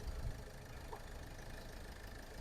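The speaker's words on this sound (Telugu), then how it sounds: "వెహికల్ ఇంజన్ కూడా మనకి వెర్నా డీజిల్ ఇంజన్ ఏ విధంగా అయితే మనకి సౌండ్ అయితే వస్తుందో ఆ విధంగా మనకి పర్ఫెక్ట్ కండిషన్లో అయితే ఉంది" A 2015 Hyundai Verna 1.6 SX diesel engine idles with a steady, even rumble, faint and unbroken for the whole stretch, with no talking.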